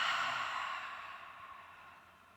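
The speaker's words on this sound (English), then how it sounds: "And release, exhale through the open mouth." A single long, deep exhale through an open mouth during a guided relaxation, close and breathy, starting strong and slowly fading over a couple of seconds, with no talking.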